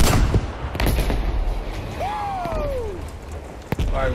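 Firework-like explosions and whistling launches in the Battlefield 5 video game: scattered booms and crackles, rising and falling whistling streaks, and a sharp bang near the end over a busy, noisy mix.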